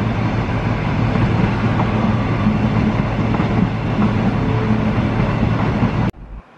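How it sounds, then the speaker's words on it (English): A suburban train rolls into a station in Brisbane, a loud, close, continuous rumble of wheels and motors with faint rail clatter that holds steady, then cuts off abruptly near the end. "See a suburban train coming in"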